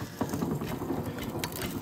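A hand-cranked sugarcane press with three spinning spindles, similar to a meat grinder, turns with a faint, continuous mechanical rattle and clicking of gears throughout.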